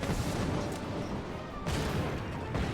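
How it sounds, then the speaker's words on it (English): Rumbling explosions from the video game Final Fantasy XIV boom in dense, overlapping bursts, a heavy roar that surges and cuts off abruptly mid-clip before erupting again. "Oh, your place is exploding now."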